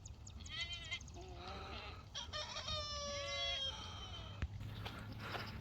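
Several goats bleat repeatedly, close and loud, waiting for a treat of grass clippings on a natural farm with Bermuda grass grazing. The calls are wavering and overlap one another over a low outdoor hum, with a short sharp knock partway through.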